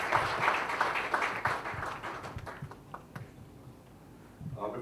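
An audience applauding to welcome Dr. Shashi Tharoor at a launch event, a dense patter of clapping that fades out midway, leaving a quiet hall before a brief stir at the end.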